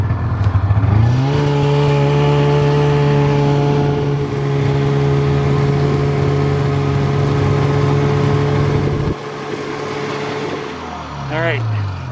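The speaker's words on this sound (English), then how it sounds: "So I'm on my snowmobile." A snowmobile engine drones steadily at close range while riding a wooded trail, holding an even pitch for most of the run before easing off near the end.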